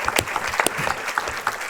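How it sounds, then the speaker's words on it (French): An audience at a scientific conference day applauds the teams, a short burst of steady, fairly close clapping from many hands. "Je voudrais quand même qu'on applaudisse les équipes de Constance"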